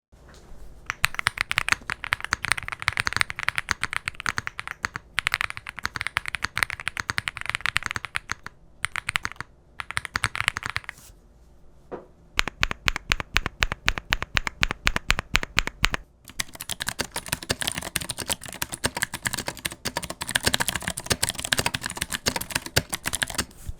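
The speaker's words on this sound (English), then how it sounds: "isn't the biggest fan of loud keyboards" Rapid clacky typing on a Womier SK75 mechanical keyboard, close and crisp, in bursts of fast keystrokes with short pauses and rhythmic single-key presses.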